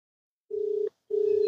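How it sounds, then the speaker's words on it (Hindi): Ringback tone on a phone call to a police station officer in Bajrangganj, two steady purring rings separated by a short pause, clear and alone with no talking. "अब देखिए फोन लग चुका है बजरंगगंज थाना प्रभारी का, पूरा रिंग हो रहा है।"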